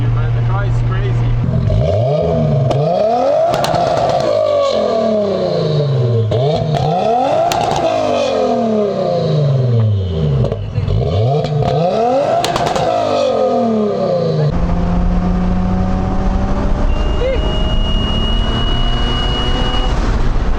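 A 650 HP Toyota Cressida MX83 sleeper with high boost revs hard in repeated loud surges, each climb and fall sweeping up and down, before settling to a steady idle with a faint whine near the end.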